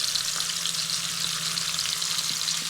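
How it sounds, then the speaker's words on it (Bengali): Paneer pieces fry in a pan, making a loud, dense, continuous sizzle up close. The sound holds steady throughout with no speech. "পনিরগুলি ভালো করে লাল লাল করে ভেজে নিচ্ছি"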